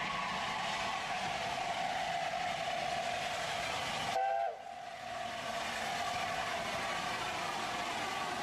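A London and North Eastern Railway steam locomotive runs with a loud, continuous rushing roar. A short whistle cuts through partway, then the sound dips briefly before the steady running noise returns.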